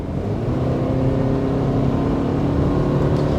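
A 2024 Subaru Crosstrek engine accelerating hard, a loud, steady low drone of engine and road noise heard from inside the car, rising slightly over a few seconds, with no talking.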